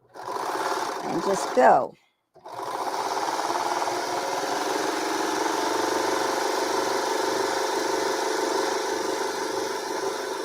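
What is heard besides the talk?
serger sewing machine stitching stretch material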